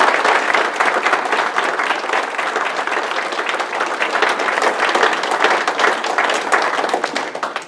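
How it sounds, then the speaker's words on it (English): Sustained applause fills a graduate hooding ceremony as an audience claps continuously and densely for several seconds, loud and close, with no voices rising above it. "we would like to give a collective round of applause for all the"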